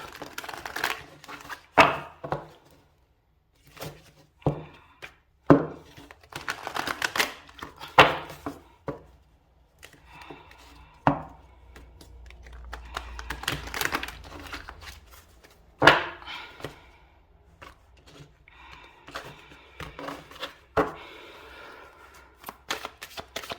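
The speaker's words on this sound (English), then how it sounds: "I'm just going to shuffle my Astro Oracle deck." An oracle card deck is shuffled close up in repeated bursts of riffling and shuffling, separated by short quiet pauses, with no talking.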